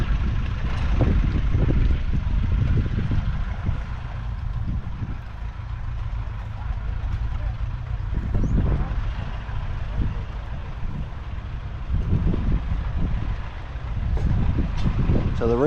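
A tractor engine chugs steadily close by at a vintage weekend show, a loud, continuous rumble with occasional surges and wind buffeting the microphone.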